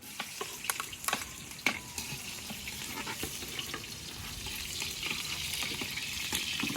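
Onions fry steadily in a hot pan, a continuous close sizzle with occasional stirring clicks and pops throughout, no voices over it.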